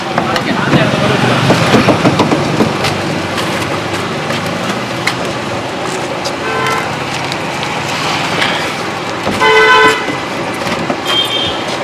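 A vehicle horn honks loudly in short bursts and one longer blast amid road noise at a busy outdoor food-giving gathering for sadhus in Tiruvannamalai, with people talking throughout.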